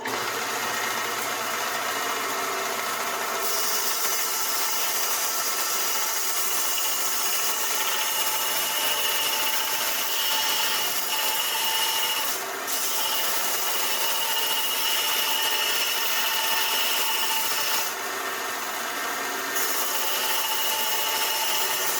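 Belt sander grinding a knife blade to refine its profile, a steady continuous abrasive whir with slight shifts in pressure as the steel is worked, close and loud with no talking.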